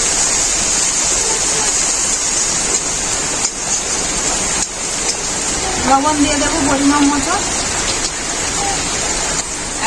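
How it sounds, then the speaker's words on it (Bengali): Heavy rain falls outside a kitchen during cooking, a loud, dense, steady hiss that lasts throughout while someone talks over it. "এত জোরে বৃষ্টি হচ্ছে"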